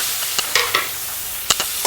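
Onion dropped into hot oil in a home kitchen, giving a loud sizzle with several sharp crackling spits and stirring clatter scattered over a steady frying hiss.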